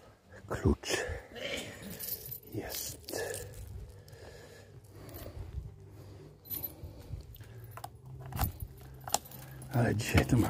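A set of keys jangles and clinks in several bursts while a rider gets ready to set off on a motorbike, with a voice talking in between and some handling noise around it.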